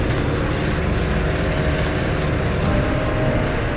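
Yak 52 propeller warbird in flight, a steady, loud, droning engine and propeller roar from inside the aircraft, constant throughout with faint clicks, no voices.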